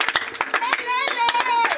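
Worship congregation clapping in acclaim at a gospel service, quick irregular hand claps close by with voices and singing mixed in throughout.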